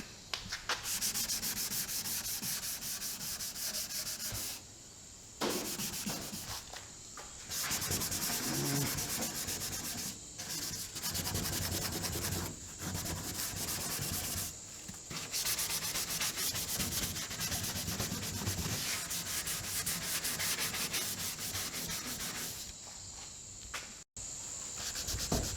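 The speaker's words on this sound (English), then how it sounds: "Just give it a bit of a scuff for that filler to stick." Hand sanding on the body filler of an XT Falcon shell, a steady abrasive rubbing scuff repeated in long strokes with brief pauses between passes, close and continuous with no talking.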